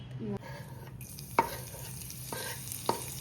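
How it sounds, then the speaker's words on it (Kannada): Mustard seeds dropped into hot oil give a sudden, steady frying hiss, broken by a few sharp pops and clinks, with no talk over it. "ಸಾಸಿವೆ ಹಾಕೋತಾ ಇದ್ದೀವಿ"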